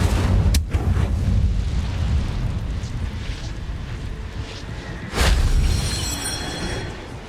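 Incendio fire spell explodes in Hogwarts Legacy with a loud, sustained roaring burst, a sharp crack near the start, then a second heavy blast around five seconds that slowly fades.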